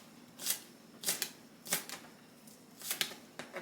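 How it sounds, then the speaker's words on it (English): A knife chops green onions on a cutting board, giving five or six sharp, faint taps spaced roughly half a second apart, with quiet background and no voices. "now I'm just cutting up these green onions"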